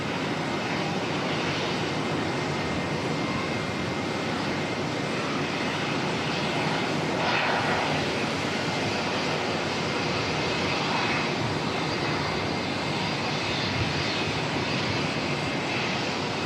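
Singapore Airlines A380 sitting at the gate at Auckland Airport before pushback, its jet engines and ground equipment giving a continuous, even roar with a faint high whine, steady and moderately distant throughout.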